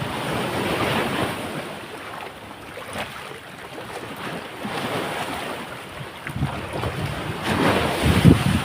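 Large ocean waves crash against a rock formation, a continuous roaring wash with surging swells and heavy wind buffeting close to the microphone.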